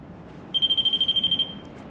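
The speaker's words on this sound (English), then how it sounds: "Can you trigger the REM pod one more time?" A REM pod ghost-hunting device sounds its alarm during a castle investigation, giving a fast, steady train of high electronic beeps lasting about a second before cutting off over a quiet room.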